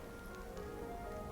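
Steady rain in the beta mountains level of the video game Sky, a constant soft hiss of drops falling on surfaces with no other sounds.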